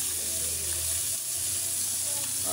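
A pot of water boils on the stove, ready for cooking freshwater snails: a continuous close bubbling hiss and crackle, steady and fairly loud, with no talking.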